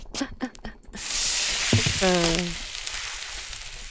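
Oil sizzles and fries in a pan in the cooking video game Cucina Stellata, a steady hiss that starts after a few brief voice-like sounds and holds loud and close, with a short tonal chime partway through.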